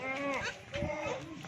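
Goats of the top-class Rajanpuri breed bleat at a livestock sale, with a wavering, nasal call over a second and a half while someone talks close by.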